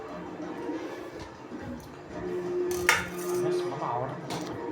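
A knife works through a jackfruit in a home kitchen, producing soft, close scraping and tapping sounds under background chatter and household noise.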